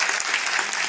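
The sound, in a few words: audience applause as welcome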